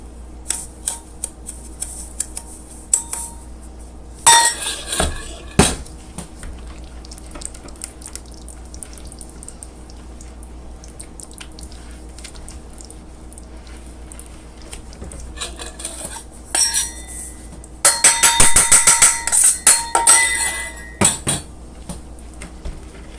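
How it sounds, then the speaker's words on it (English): Soap shreds mixed with added salt are stirred in a container, producing scattered scraping and clinking taps, sparse at first then a dense rapid burst of scraping near the end. "I'm just going to stir this up real quick."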